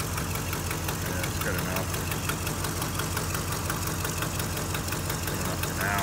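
The engine of a 1990 Oldsmobile station wagon with an exhaust leak runs at a steady idle, with a continuous rumble and a rapid ticking, knocking pulse heard up close; a few quiet words come through briefly.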